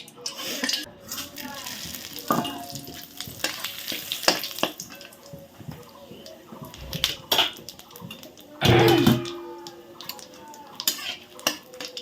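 Bay leaf, cumin and garam masala fry in hot oil with a soft sizzle, broken by stirring and the clatter of pots and utensils, and a voice now and then.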